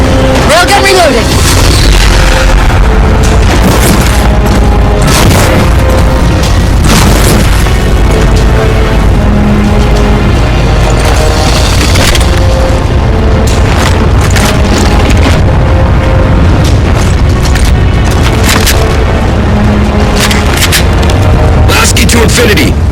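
Railgun shots and explosions in the Halo 4 video game: loud, repeated booms and sharp cracks over a constant rumble, with voices speaking throughout the battle.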